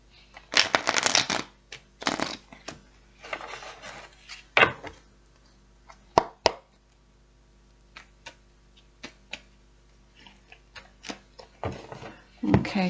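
Playing cards are shuffled by hand in quick riffling bursts, followed by scattered soft taps and clicks as the deck is handled, fairly close and quiet.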